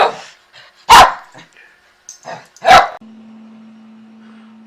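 A dog lets out two loud, sharp barks about two seconds apart, with softer yips and whimpers between them, followed by a steady faint hum.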